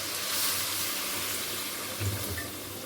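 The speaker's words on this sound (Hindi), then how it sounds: "और थोड़ा सा पानी डालेंगे" Water runs steadily into a cooking pot of chicken korma, a continuous splashing hiss close by, with no voices.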